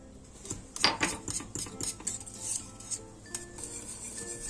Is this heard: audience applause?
no